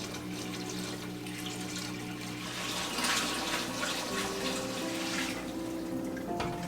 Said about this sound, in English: I slowly went about filling up the large 20-gallon fish tank with water